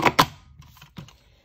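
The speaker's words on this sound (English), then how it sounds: "line up the edge of the card front with the edge of my paper cutter and trim off all those excess pieces so that we get that nice straight cut" A paper cutter slices the edge off a card front in a couple of sharp, close cuts, then the blade slides and the paper shifts, all within a brief quiet moment.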